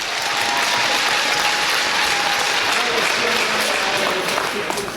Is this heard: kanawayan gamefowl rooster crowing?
no